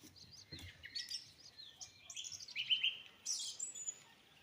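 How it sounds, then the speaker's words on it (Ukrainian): Several birds chirp and trill in quick bursts outdoors beside a VAZ Zhiguli car being worked on, bright high calls overlapping across a quiet background, with no talking. "Співають пташки"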